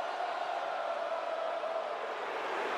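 Steady crowd roar from a WWE 2K23 wrestling arena at SummerSlam while Seth Rollins showboats, a continuous loud wash of cheering with no breaks.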